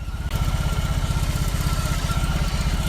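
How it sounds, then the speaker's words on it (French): A BMW R 18 B 2021 cruiser backing up under its electric starter-driven reverse, giving a steady low pulsing engine drone after a brief rise at the start, close and loud with no talk. "J'appuie sur le démarreur pour reculer"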